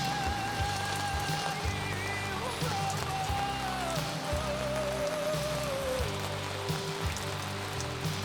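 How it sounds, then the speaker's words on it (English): Rain falls steadily while a camp is being packed up, a constant patter running throughout alongside a few faint tonal whines and low rhythmic thumps, with no talking. "Never fun to pack up in the rain"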